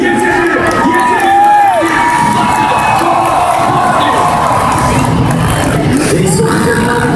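Arena crowd at a SuperEnduro World Championship race in Kraków's Tauron Arena, a loud continuous roar of cheering and shouting with whoops rising above the babble, filling the hall without a break.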